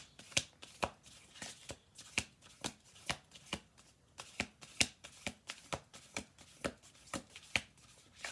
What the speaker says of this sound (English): Two more shuffle throughs.